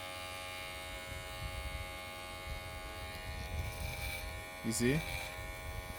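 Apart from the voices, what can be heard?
hair clippers cutting hair after diamond stone blade sharpening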